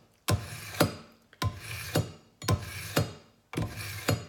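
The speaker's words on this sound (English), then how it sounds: "I can feel it going through those abrasive rods" A kitchen knife blade is drawn through the abrasive rods of a handheld sharpener, four paired scraping rasps in a steady rhythm, each stroke a gritty close-up drag.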